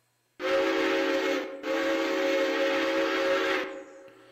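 A steam train whistle on a railroad hauling log cars blows two long, loud sustained blasts with a short break between them, then fades out. No voices.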